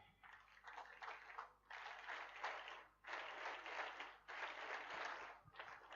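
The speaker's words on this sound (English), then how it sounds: "give a quadruple clap for our guest speaker" Steady applause from a crowd at a school prize-giving ceremony for a guest speaker, sustained clapping in several bursts separated by brief pauses, fairly distant and even in loudness.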